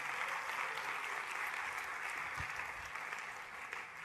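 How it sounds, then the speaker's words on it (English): Steady audience applause for event organizers at a team presentation, an even wash of clapping from a seated crowd lasting the whole stretch without interruption. "let us give a big round of applause for the organizers"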